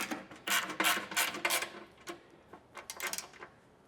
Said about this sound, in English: Now we'll go ahead and tighten up the 4 factory bolts.